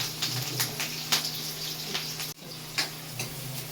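Onions with green chillies frying in a pan until brown, a steady close sizzle with light irregular clicks and spatters throughout, no voices.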